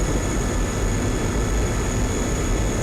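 MiG-21 jet cruising in a flight simulator game, a steady, loud broadband engine roar with no change over a few seconds.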